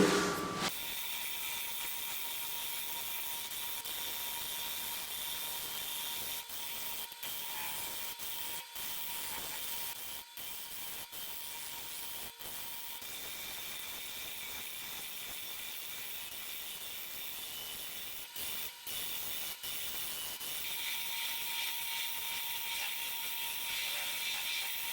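A large wooden salad bowl spins on a wood lathe as the tool cuts slowly across its bottom, giving a steady faint hiss and scraping whir with a few brief drops and clicks, no voice over it.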